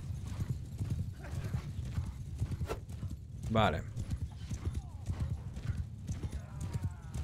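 Horse hooves clatter in a rapid, steady clip-clop as mounted archers ride in Mount and Blade 2 Bannerlord, with a brief whinny partway through and someone talking over the galloping.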